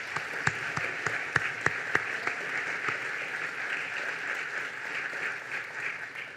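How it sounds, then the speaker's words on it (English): A festival opening-night audience claps for an organiser, starting with a few sharp individual claps that blend into a moderate, even patter of applause. "actually a round of applause for Rob because he did do this"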